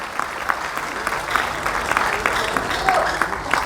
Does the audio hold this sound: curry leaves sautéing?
no